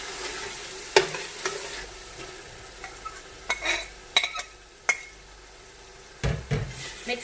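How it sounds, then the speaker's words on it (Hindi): Bitter gourd is stirred into mutton frying in separated oil, with a steady low sizzle and sporadic sharp scrapes and clinks of a spoon against the pot, close and alone. "अब हम इसमें करेला ऐड करने लगे हैं।"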